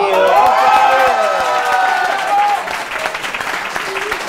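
A studio audience at a televised contest applauds and cheers for the winner, with sustained clapping, a voice and sung or held tones over the crowd at first, then the clapping continuing alone.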